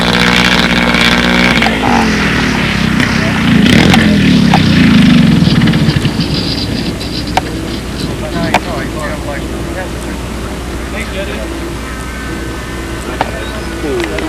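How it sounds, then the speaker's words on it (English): A twin-cylinder model aircraft engine runs at a model airplane contest. It gives a loud, buzzing drone that swells around the middle and then eases to a steadier, quieter hum, with people talking nearby. "They're twin-cylinder engines, Ken."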